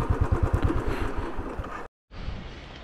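A motorcycle engine idling close by at a picnic spot near Chandigarh, with a steady low pulsing throb and clatter that cuts out abruptly, then faint outdoor background after a brief silence.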